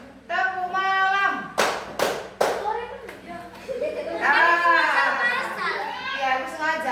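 Children's group clapping game, sharp bursts of hand claps spaced through the clip between stretches of children talking and chanting.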